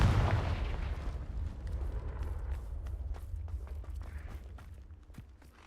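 Confringo spell blast in a Harry Potter video game, a heavy booming impact at the start that rolls off into a long decaying rumble with scattered faint crackles and thuds.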